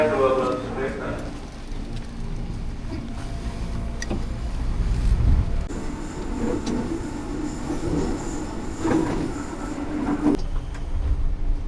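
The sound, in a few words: commuter train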